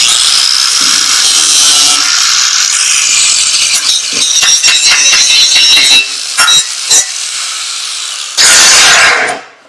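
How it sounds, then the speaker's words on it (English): An angle grinder works on steel for a dock repair, a loud, sustained high-pitched whine with scraping bursts, then brief cut-outs and restarts near the end. "A little grinding in one place or another."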